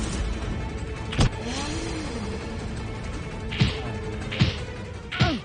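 A car pulls out near an abandoned building, its engine a low running hum punctuated by several sharp knocks and thuds.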